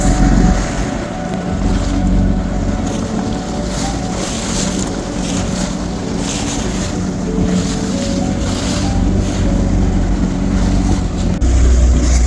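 A rebuilt Yamaha 115 hp outboard with a new powerhead runs on a boat on open water, a loud, steady, smooth drone with wind and water noise throughout.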